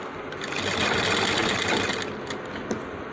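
A sewing machine stitches a shirt front placket along a one-inch strip, giving a steady, continuous close-up whirr that runs unbroken and alone with no voices.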